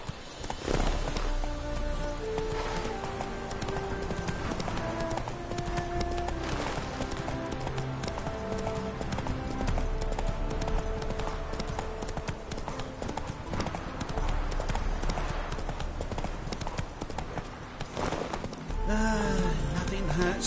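Roach the horse gallops in The Witcher video game, with rapid rhythmic hoofbeats throughout and game music and ambience underneath, ending in a brief snort.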